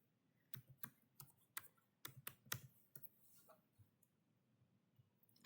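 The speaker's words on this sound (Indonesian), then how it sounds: "Kita langsung ketik aja untuk versi 4 ya IP-nya." Computer keyboard keys tapped while entering an IPv4 address on a PC, a burst of close, crisp clicks in quick irregular runs that thin out toward the end.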